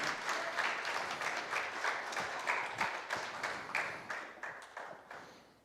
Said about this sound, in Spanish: Dale un aplauso al Señor si tú quieres ser de esos.